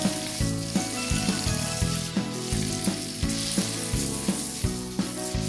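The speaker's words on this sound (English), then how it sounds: "We're going to brown all the salmon in our oil and margarine" Salmon pieces fry in olive oil and margarine with a close, steady sizzle and crackle, broken by regular rhythmic knocks of stirring or pan movement, with no voices.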